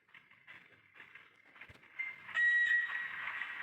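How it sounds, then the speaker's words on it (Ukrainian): ER2R electric multiple-unit train running between Lviv and Zolochiv, heard from inside the carriage: a steady rolling rumble and hum that swells midway, with a sustained whistle-like tone over the top. "Там електричка."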